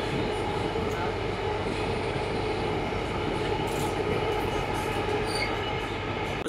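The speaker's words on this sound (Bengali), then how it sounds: "সো ফাইনালি আমাদের মেট্রোর টিকিট কেটে আমরা উঠেছি মেট্রোতে" A Kolkata metro train rolls along with a loud, constant rumble and a high wheel squeal drifting through, with faint voices of passengers in the carriage.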